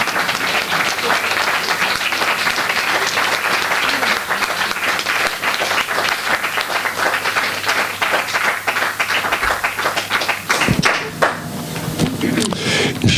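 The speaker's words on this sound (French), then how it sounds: "Vous n'êtes pas obligé de l'applaudir." Sustained audience applause fills the room at a steady, dense level throughout, with a few louder claps and a brief shuffle near the end.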